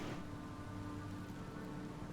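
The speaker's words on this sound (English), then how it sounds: "It's been raining the whole time we've been here now in this game." Steady rain in the video game The Sinking City, a continuous dense hiss of falling water with low rumbling underneath, evenly loud throughout with no speech.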